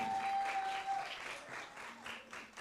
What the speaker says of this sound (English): A huge hand clap to our performers.